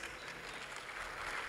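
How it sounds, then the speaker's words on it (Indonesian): Applause for Pak Anies at a mayors' forum in Makassar, a dense and steady wash of many hands clapping at once, fairly quiet and continuous through the whole moment. "Tepuk tangan untuk Pak Anies"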